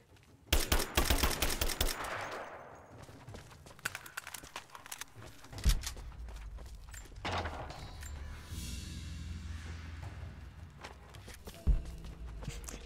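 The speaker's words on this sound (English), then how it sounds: "Is this one I can shoot?" Gunfire in Rise of the Tomb Raider rattles in a rapid burst of shots early on, followed by scattered single cracks and impacts over a low rumbling game soundscape.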